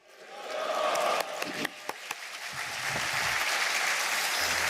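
Church congregation at a national elders' retreat clapping in welcome, steady applause with a few sharp louder claps, no distinct shout standing out.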